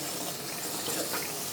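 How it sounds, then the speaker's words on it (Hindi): Water pours into a mixer jug while cooking chole curry, a steady, soft splashing trickle running continuously for a moment at close range with no talking over it. "मैं इसी जग के अंदर, इसी मिक्सी के अंदर पानी शामिल करके इसमें ऐड करती हूँ"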